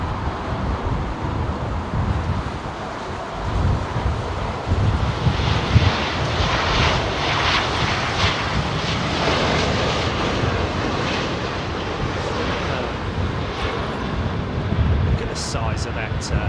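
A Boeing 777-300ER taxis toward runway 27R at London Heathrow, its jet engines giving a steady, loud, broadband roar that holds throughout, mixed with wind buffeting the microphone, while people talk over it.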